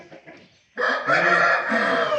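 A rooster bred for the ring crows once, close and loud, right after a few faint clucks.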